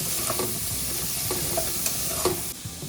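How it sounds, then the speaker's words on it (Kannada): Onions and chillies sizzle steadily in hot oil for Hassan-style mutton sambar, with repeated stirring and scraping strokes through the pan, close and fairly loud with no talking. "ಇವಾಗ ಈರುಳ್ಳಿ ಮತ್ತು ಮೆಣಸಿನಕಾಯಿ ಹಾಕ್ತಾ ಇದ್ದೀನಿ."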